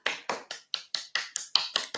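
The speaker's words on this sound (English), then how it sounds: "I'm clapping hands." Hands clapping in a steady, even rhythm, nine sharp claps about a quarter second apart, close and dry with no talking.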